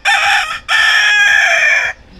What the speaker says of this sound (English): Very territorial rooster.